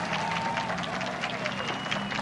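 Crowd applause at an outdoor political speech in Central Park, a continuous dense wash of clapping from a large crowd, steady and fairly loud throughout.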